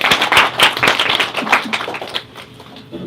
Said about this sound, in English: Claps in person and in the chat, please, for Anthony.